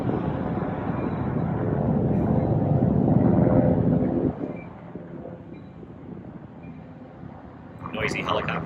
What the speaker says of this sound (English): Noisy helicopter.